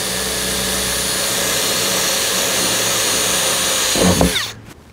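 A power drill bores a pilot hole in wood for a screw while building a skate box, whirring loud and steady, then winding down and stopping near the end.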